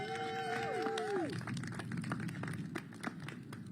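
A brief voice opens, then an audience at a Washington, DC community event breaks into steady applause, a dense patter of claps continuing to the end.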